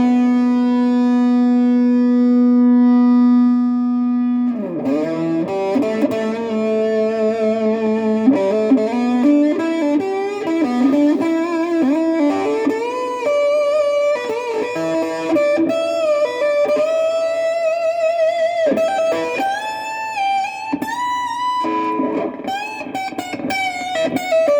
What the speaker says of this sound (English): juice this thing with a little distortion because it sounds great at distortion